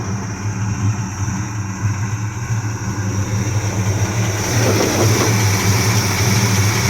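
1984 Chevy C10 truck's freshened-up 350 V8 with a mild cam idles loud and close, a steady lumpy rumble with a rough, loping throb, which grows slightly louder near the end.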